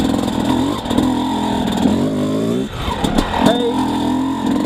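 A motorcycle fitted with a Keihin 38 carburetor pulls away in first gear, its engine note rising and sweeping upward in loud revving climbs, with a brief dip before climbing again; someone talks over it.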